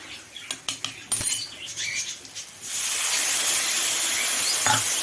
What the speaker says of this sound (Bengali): আবারও নেড়ে কষিয়ে নেব।